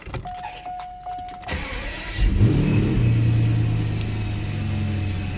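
A Mercedes SL600 engine, freshly fitted with repaired throttle bodies, revs up after a short electronic beep and a clunk, then holds a loud, close, rising roar that slowly eases back.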